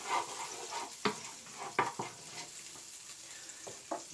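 Chilli and onion fry in a pan ahead of lamb sausage meat, giving a steady close sizzle broken by several sharp scrapes and knocks of stirring.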